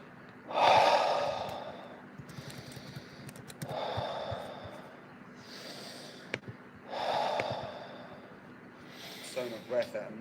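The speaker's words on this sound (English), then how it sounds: "And then just keep breathing." Deep guided breathing exercise: slow, heavy breaths come in repeated strong rounds about every three seconds, each a loud rushing inhale or exhale close to the microphone, with faint background sound between them.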